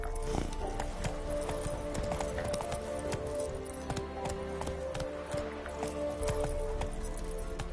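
Roach the horse gallops in the video game Witcher 3, a quick, even clip-clop of hooves close by over a low rumble, with a possible snort or whinny and no clear talk.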